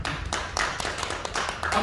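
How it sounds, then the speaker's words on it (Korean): A church congregation claps together during a revival service sermon, a steady dense patter of many hands that runs throughout at moderate loudness, with no voices over it. "박수 한번 쳐주세요."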